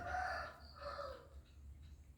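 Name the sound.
rooster crowing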